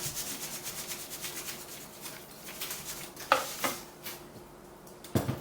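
Vegetables sauté in a pan with a sprinkle of salt, a quiet sizzle under soft scraping and stirring strokes, with a few sharper clacks of a utensil against the pan.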